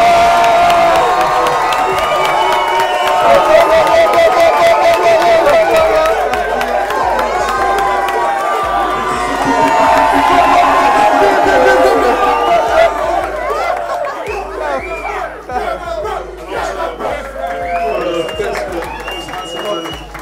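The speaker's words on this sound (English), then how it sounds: "I'd like everyone to give a round of applause to the most beautiful looking woman today" Wedding reception guests cheering and shouting for the bride, a lively crowd roar with whoops and chatter that stays loud for several seconds before thinning into scattered voices.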